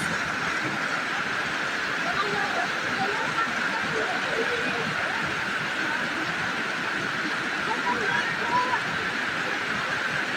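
Strong typhoon floodwater rushes past at San Andres, Romblon, a loud, steady, broadband roar of fast-moving current that never lets up, with people talking over it.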